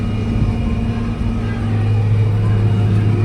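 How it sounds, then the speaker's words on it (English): A big farm tractor hitched to a corn planter runs with a steady, loud low engine drone that holds constant in an open field, with no talk over it. "But this is my big tractor."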